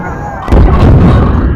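A massive explosion in a space film about astronauts erupts suddenly after a quieter rumbling stretch, a loud, close, booming blast with dense low-frequency roar that sustains and decays over the following second.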